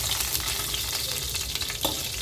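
Cloves, fennel seeds and cinnamon bark fry in hot oil for a hotel-style vadacurry, making a close, continuous crackling sizzle with a brief stronger burst near the end and no talking.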